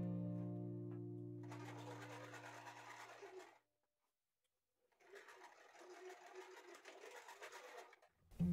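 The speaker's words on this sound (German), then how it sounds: "Nähe sie wieder nähfüßchenbreit zusammen." A sewing machine stitches patchwork fabric pieces together in two steady whirring runs separated by a pause of silence, close and clear, after a fading tone at the start.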